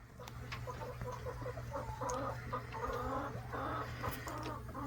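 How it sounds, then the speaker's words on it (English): Large meat chickens cluck steadily and close by in a farmyard flock, with overlapping busy calls and a constant low hum underneath, and no one talking. "And there's my meat chickens."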